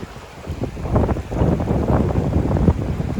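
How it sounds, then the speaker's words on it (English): Rain-swollen water rushes through the Devonport Leat aqueduct on Dartmoor in August, a loud, close, continuous roaring flow with gusty swells. "You can see there's a lot of water flowing through here today."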